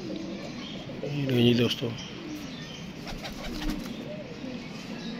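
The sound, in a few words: pigeons cooing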